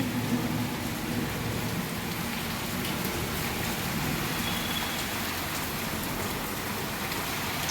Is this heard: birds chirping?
no